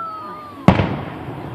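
A Fourth of July aerial firework bursts in a single sharp boom followed by a crackling scatter that fades. A faint steady tone runs underneath before the blast.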